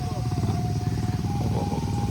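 A motorcycle engine idles and revs steadily nearby, its low throbbing hum continuous throughout, with a faint whine riding over it.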